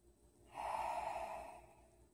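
One long, steady Ujjayi yogic breath, a deep, even, throaty rush of air lasting over a second, close and alone.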